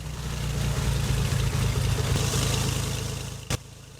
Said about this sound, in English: Engine start is 124.